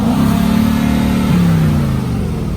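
A 2020 Mercedes G550 SUV engine revs once, loud and close, its steady roar rising briefly before dropping away as the throttle is released, heard alone with no talking.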